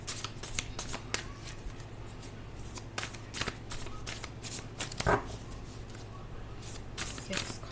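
Tarot cards being shuffled close up, a rapid series of crisp riffling and slapping bursts repeating steadily over a low background hum.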